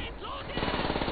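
Rapid automatic gunfire from the Call of Duty: World at War video game, a fast rattling burst that builds in the second half of the clip, loud and close.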